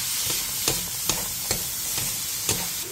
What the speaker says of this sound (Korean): 그 다음 다진 마늘 1스푼과 소금 2분의 1티스푼을 넣고 센 불에서 볶아주세요.